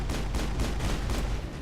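Rapid gunfire from the video game Mass Effect, a quick run of several evenly spaced shots that are loud and close over a dense, rumbling background.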